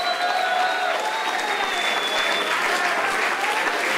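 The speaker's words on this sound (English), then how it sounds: "How about a round of applause for those two?" Fight-night crowd at an MMA event applauding two fighters, steady broad clapping and crowd noise across the whole stretch, with faint background voices.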